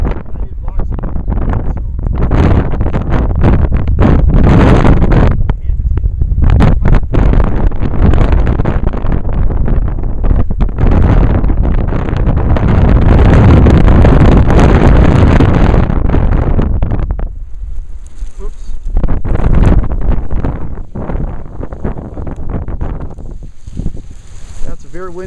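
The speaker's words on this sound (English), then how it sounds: "Very windy day outside." Strong wind on a very windy day in Alexandria, Minnesota, roars and buffets the microphone in loud sustained gusts from a moving vehicle, easing briefly before surging again, with occasional talking.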